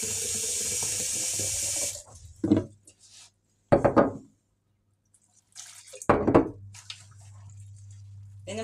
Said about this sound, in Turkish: Biraz daha sıcak su alayım ben şuradan.